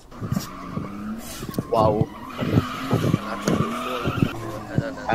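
A car drifts with its tires skidding. Squealing, tonal tire screeches come in repeated bursts over engine noise, and a person speaks briefly over it.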